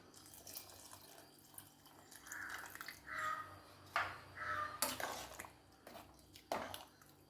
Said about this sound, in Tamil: நான் ஒரு கப்பில் தேங்காய் பால் எடுத்திருக்கேன் இப்போ நான் அதை ஊற்றிக்கிறேன்